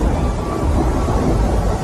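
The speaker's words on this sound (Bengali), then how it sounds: "জানলার কাঁচের উপর বৃষ্টি ঝড় আছড়ে পড়ছে ক্ষুব্ধ সমুদ্রের মতো" Heavy storm rain lashing against window glass, a dense, steady roar of water and wind that stays loud and unbroken throughout, with no voices.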